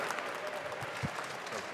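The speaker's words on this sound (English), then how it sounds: "Give it up for Starix, everybody" Crowd applause at an MLG CS:GO Major quarter-final, a steady wash of clapping and cheering from a large audience with no clear break.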